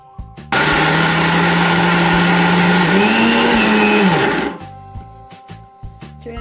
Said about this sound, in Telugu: చల్లారిన తర్వాత వీటిని మనం మిక్సీ పట్టుకుందాం